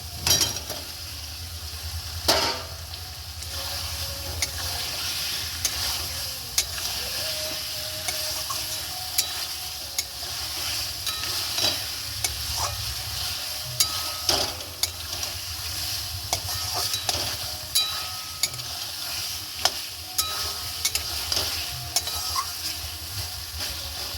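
Potato pieces frying in oil in a pan for Kashmiri dum aloo, a steady close sizzle throughout with occasional clicks and scrapes of stirring, no talking.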